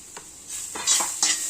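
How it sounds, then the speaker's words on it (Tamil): Onions sauté in a pan with chili powder, coriander powder, cumin powder and garam masala for masala sundal, giving a soft sizzle broken by a few scraping stirs of a spoon against the pan. "வெங்காயம் கொஞ்சம் வதங்கணும். வதங்கிச்சு."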